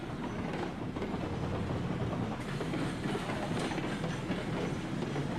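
Train in the Railroads Online video game backing up toward stock cars, a continuous rolling rumble with clickety-clack of wheels on rails, steady and moderately faint with no voices.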